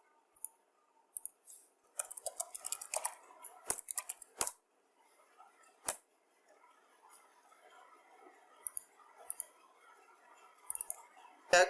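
A computer mouse clicks repeatedly at a desk, with sharp isolated clicks and quick bursts of clicking and rustle spread irregularly across a quiet room.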